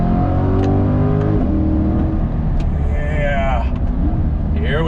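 A 2022 Chevrolet Corvette C8 engine revs hard under throttle from a roll in first gear, its note climbing loud and close inside the cabin while a voice talks over it.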